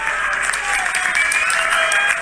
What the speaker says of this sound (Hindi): ताली ठीक से बजना चाहिए भाई।